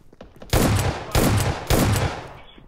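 Gunfire in the video game PUBG comes as three loud, evenly spaced bursts of rapid shots, each trailing off quickly, with no talking.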